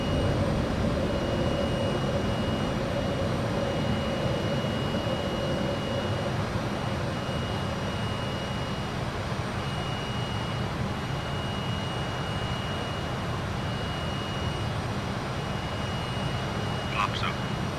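A Fokker F28 jet climbs after takeoff in a flight simulator, giving a steady, broad engine roar with a faint high whine that holds level for the whole stretch, while a voice calls out checklist items over it.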